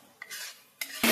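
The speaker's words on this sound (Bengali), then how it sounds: "সুন্দর করে কষায় নিচ্ছে মশলাটা" Curry masala is stirred and fried in a pan. Two short scraping strokes of a utensil against the pan come close together, over a faint sizzle.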